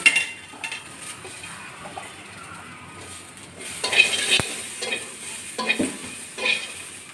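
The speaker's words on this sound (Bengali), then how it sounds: "আমি খালি করাইতে একটু নাড়াচাড়া দেবো" Ingredients stirred in a kadai for a spicy mashed sweet pumpkin leaf bharta with chillies and garlic, giving a soft steady sizzle with scraping utensil strokes and occasional clinks, close by, no talk.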